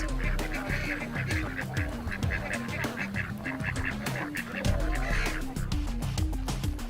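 Chickens and ducks on a farm in Bangladesh honk and quack repeatedly close by, a busy overlapping flock chorus that carries on without pause throughout.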